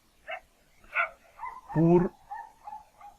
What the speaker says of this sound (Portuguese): os cachorros aqui do vizinho estão que estão